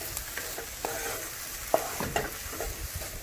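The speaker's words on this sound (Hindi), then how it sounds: "दाल से इसको मिला लेंगे इस तरह से।" Red chili powder, garam masala and coriander powder stirred into a lentil stuffing in a pan, soft scraping strokes with a light sizzle and a few sharper knocks, close and fairly quiet.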